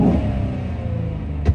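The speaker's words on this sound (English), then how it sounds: "I didn't record before I installed the cold air intake, but this is the sound afterwards" A truck engine with a newly installed cold air intake drones low and steady while driving, heard from inside the cab, with a short bump near the end.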